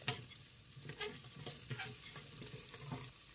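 Frozen curry leaves fry in hot oil with garlic in a pan, giving a soft, steady sizzle broken by scraping stirs, close but quiet, with no speech.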